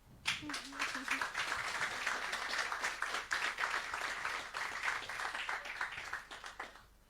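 Applause from a small group for a singer in a radio studio during a music talk show, a steady dense patter of clapping lasting several seconds before fading out.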